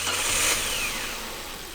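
A Volvo V70 engine idles rough and shaky despite new engine mounts, giving a steady close mechanical hum with a slight uneven knock that fades a little toward the end.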